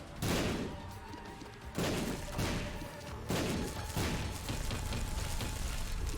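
Shots in The Binding of Isaac: Afterbirth+ fire in several punchy thumping bursts, evenly spaced and fairly loud, with a busy crackle between them.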